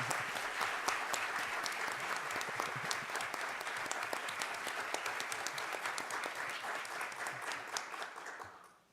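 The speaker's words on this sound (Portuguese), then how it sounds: "professor Celso Antônio Bandeira de Mello, a quem eu peço uma salva de palmas." Audience applause at an administrative law congress panel, steady dense clapping from a large crowd filling the room, holding for about eight seconds before fading out at the end.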